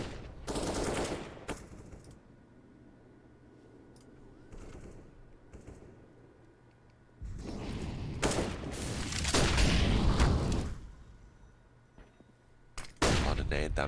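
Counter-Strike match on the Vertigo map with rapid bursts of gunfire and grenade blasts in loud clusters, separated by quieter stretches of game ambience.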